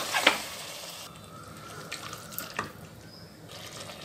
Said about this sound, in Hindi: छोटे कप से पानी डालेंगे।